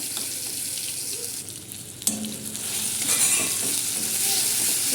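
Whole cumin and spice paste sizzle and crackle steadily in a hot pan while being stirred, with a sharp scrape around the midpoint and the frying growing a little louder afterward; no talking.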